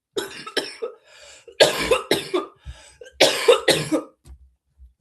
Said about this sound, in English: This cough is not going to stop me